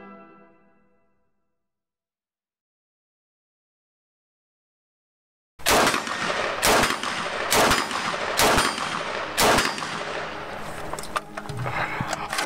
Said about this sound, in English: It's the standard issue Chinese army assault rifle, the Type 95.